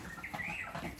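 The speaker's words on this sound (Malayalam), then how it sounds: "നല്ല രസമില്ലേ കേൾക്കാൻ കിളികളുടെ ഒച്ച" Faint, quick bird chirps and twitters drifting in over quiet outdoor background.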